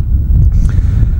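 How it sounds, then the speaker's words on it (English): Low, steady wind rumbles across a vast, open Atacama desert landscape in Argentina, a continuous near buffeting against the microphone with slight gusting swells and no voices. "very quiet except for the wind"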